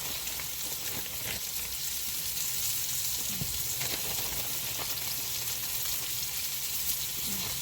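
Oxtails browning in a pan, Jamaican style: a faint, continuous sizzle and crackle of frying meat with occasional small pops and light stirring, no voices.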